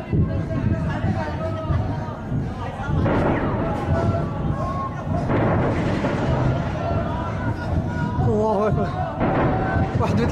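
Rocket shelling strikes in the Jobar district of Damascus, a dense, rumbling barrage of heavy booms rolling in waves over continuous low roar, with excited voices and crowd noise underneath.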